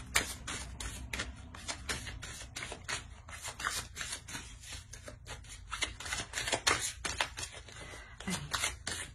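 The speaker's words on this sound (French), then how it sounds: "Je vais rajouter une carte." Tarot cards shuffled and handled in a steady run of quick, crisp riffling flicks and papery slaps, close and continuous, with no voice over them.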